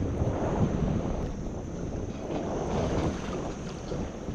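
A motor-driven fishing kayak running its motor in reverse on open water, a steady low churning drone mixed with wind buffeting and water wash, constant and close throughout.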